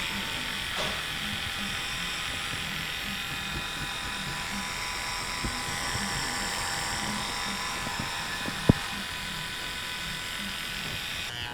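Electric hair clipper with the guard off trimming baby hairs during a beard trim and haircut, a steady close buzzing hum that runs continuously with a couple of faint clicks.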